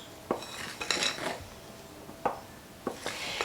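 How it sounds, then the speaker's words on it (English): Scone dough for cream tea scones is mixed gently in a bowl, with a few soft scrapes and light clinks of a utensil against the bowl, spaced irregularly and fairly quiet, with no talking. "We want to thoroughly mix everything, but we want to do it gently."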